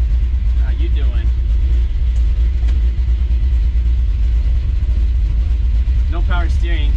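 A Chevy C10 with a big block 454 engine rumbles steadily nearby with a deep, continuous low-end drone, and voices speak briefly over it.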